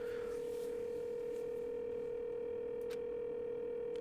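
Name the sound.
phone call connecting tone in video game Danganronpa 2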